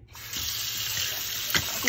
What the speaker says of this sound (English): We can put them in the sink and add water.